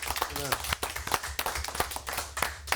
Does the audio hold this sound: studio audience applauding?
yes